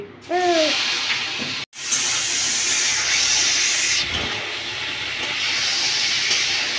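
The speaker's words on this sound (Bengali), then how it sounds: "ফুলকপিগুলোকে একটু তেলেতে একটু ভেজে নিচ্ছি" Cauliflower florets frying in hot oil give a loud, steady hiss and sizzle close by, with a short break near the middle and a brief voice-like sound at the very start.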